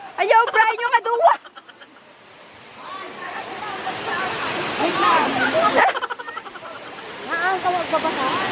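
The waterfall at Ilagan Sanctuary roars as a steady broad wash of falling water. Voices and children's calls sound over it near the start and again later.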